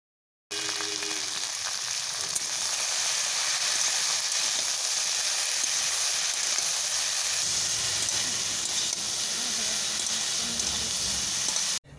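Taro stolons, potatoes and eggplant frying in a pan of hot oil, giving a steady, dense sizzle that runs almost the whole length without any voices.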